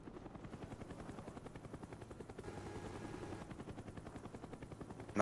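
Helicopter killstreak in the shooter Call of Duty: Black Ops, a steady rotor chop throbbing throughout with rapid gunfire bursts mixed in, loud and continuous without speech.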